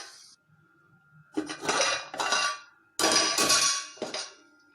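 A ladle stirs sambar in a metal cooking pot, making several loud, close clanks and scrapes in two short bursts with brief quiet gaps between them.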